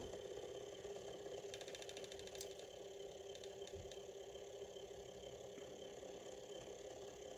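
A small 3D printed pulse motor spins with a steady mechanical whir and hum, a rapid ticking burst partway through, faint and close with no talk.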